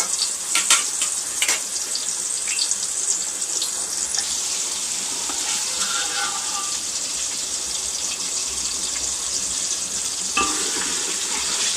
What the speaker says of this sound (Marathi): ती चांगली आपण फ्राय करून घेऊया तेलामध्ये